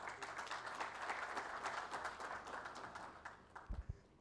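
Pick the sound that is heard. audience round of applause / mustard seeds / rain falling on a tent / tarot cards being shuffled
audience round of applause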